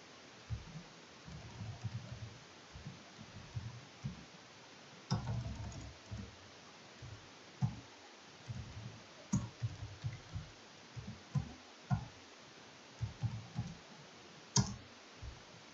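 A computer keyboard tapped out a terminal command in light, close clicks, arriving in short irregular bursts with brief pauses and a few sharper keystrokes, no voices.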